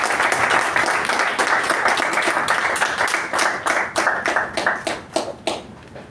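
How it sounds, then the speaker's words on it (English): Audience applause at a Toastmasters meeting greeting the master of ceremonies, a dense burst of clapping from a room of people that thins out into scattered claps before fading over about six seconds. "Please give a big round of applause"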